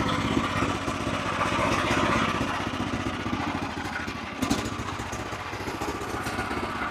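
A power tiller's engine runs with the clutch pressed and a gear engaged, giving a steady, moderately loud chugging throb throughout, with a brief clatter midway.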